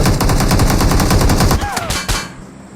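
Rapid automatic gunfire bursts from the mobile battle-royale game PUBG Mobile, loud and continuous with sharp repeated cracks, tapering off near the end.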